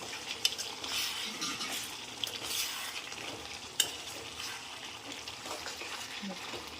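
A dry chicken curry with curry leaves is stirred in a sizzling pan, with continuous close scraping and crackling frying plus a few sharp utensil clinks against the metal.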